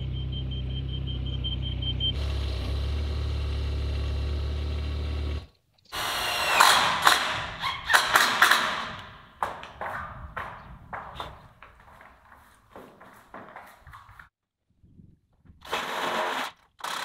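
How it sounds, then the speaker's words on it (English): A power tool drives screws into corrugated metal roofing on an outdoor metal structure, with loud bursts of whirring and sharp metallic rattles that stop and start, plus a steady motor hum before the first burst. "Putting the screws on the lower wave"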